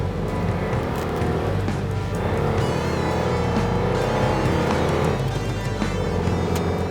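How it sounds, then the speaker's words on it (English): A VW Beetle convertible's engine runs steadily at close range with a loud, throaty rumble that swells slightly as it is revved, continuous throughout with no talk. "the engine, which I'm just going to give it a little bit of a run here"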